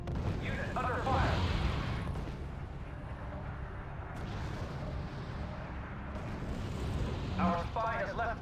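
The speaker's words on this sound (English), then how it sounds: "Unit under fire." Gunfire and artillery strike a unit during a R.U.S.E. real-time strategy battle, a dense rumbling barrage of shots and booms running throughout, with radio-style voice lines spoken over it.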